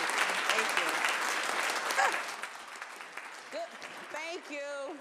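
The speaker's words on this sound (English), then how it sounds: "please stand up and applaud our keynote speaker" Audience applause for a keynote speaker at an evening event, a dense burst of clapping that gradually thins, with some voices and cheers rising near the end.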